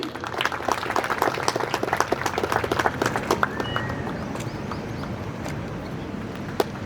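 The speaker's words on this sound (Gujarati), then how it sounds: "એકવાર જોરદાર તાળી થઈ જાય." Audience applause at a Gandhi fair event at a university in Maliba, steady mid-level clapping throughout with scattered sharper claps standing out, no one speaking over it.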